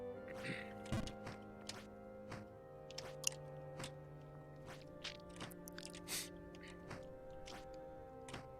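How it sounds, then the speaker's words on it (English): Spearmint gum chewed close to a microphone, giving soft, wet clicks and smacks at irregular intervals over a steady background of sustained musical tones. "I'm chewing spearmint gum, by the way, if you hear chewing sounds in the mic"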